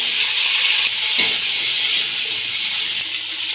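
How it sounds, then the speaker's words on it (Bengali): Cut green beans fry in hot oil in a home kitchen, giving a continuous close sizzling hiss with a brief rustle partway through and no talking. "এবার ওই তেলের মধ্যে আমি কেটে রাখা বিনসগুলো ভেজে নেব।"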